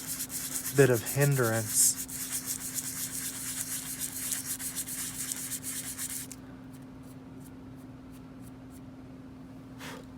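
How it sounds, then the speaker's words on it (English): Sanding the arm of a Prime 1 Studio Arkham Origins XE suit Batman statue: steady abrasive rubbing for about six seconds under a constant low hum, with a brief voice early on, then the scratching stops, leaving faint hum and a few light ticks. "I know we sanded our arm right there a little bit"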